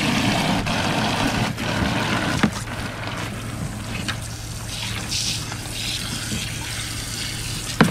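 A One Concept mini washing machine refilling with water for a rinse: a steady, continuous rush of running water with a low hum beneath, broken by a couple of soft thumps.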